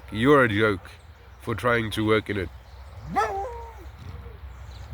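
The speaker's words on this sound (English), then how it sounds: "That's my dog." A dog gives a few short yips and whimpers, its higher rising and falling whines heard after a man's speech.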